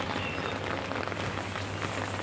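Rain falls steadily on a rooftop vegetable garden with bitter gourd, eggplant and chili plants, in windy weather, making a continuous even hiss with no break and no voices.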